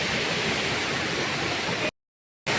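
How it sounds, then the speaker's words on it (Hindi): Kaipholangso (Kakosang) waterfall in Karbi Anglong, a steady, loud rush of broadband falling water close by, cut by a brief total dropout near the end before the roar resumes. "सो बेसिकली कायफोलांगसू वाटरफॉल यही है।"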